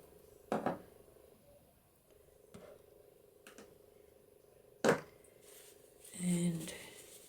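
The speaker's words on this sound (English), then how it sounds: "so I'll just clean my little spoon out" A little spoon is cleaned during a papercraft session: a few faint, isolated metallic clinks and scrapes spaced several seconds apart over a low steady hum, with a soft rubbing sound near the end.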